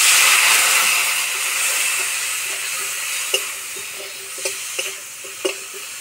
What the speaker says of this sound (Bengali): আলুর সঙ্গে মশলা খুব ভালো করে কষিয়ে নেব।